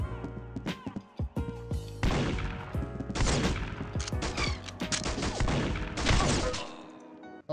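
Bursts of rapid gunfire in the Roblox game Arsenal crackle in clusters, some sharp single shots, others dense volleys, loud and close with brief pauses between.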